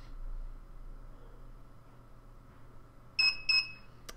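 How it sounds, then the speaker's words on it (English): After a stretch of quiet hum, two short high electronic beeps sound in quick succession from a Particle Photon alarm module, followed by a faint click. "we should hear two beeps"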